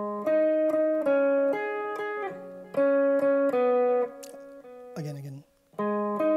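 Electric guitar picks the octave lead line of a song intro, a steady run of ringing paired notes with brief gaps and a softer muted passage near the end, close and solo.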